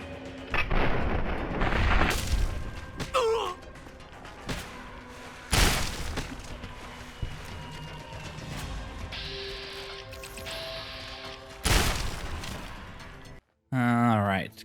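Gunfire in the video game Fallout: Tale of Two Wastelands: a handful of loud, booming shots spaced several seconds apart, with people talking between them.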